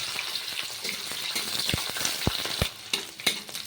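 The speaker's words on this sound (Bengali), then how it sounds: "এবার পেঁয়াজটাকে সামান্য একটু ভেজে নাম" Chopped onions frying in hot oil in a pan for chicken maharani, a busy crackling sizzle broken by several sharp spatula knocks and scrapes against the pan.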